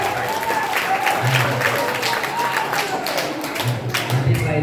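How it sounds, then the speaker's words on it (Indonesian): Audience applause at a pesantren opening address for the new school year, steady crowd clapping sustained throughout with faint voices mixed underneath. "Terima kasih dan tepuk tangan untuk kita semuanya"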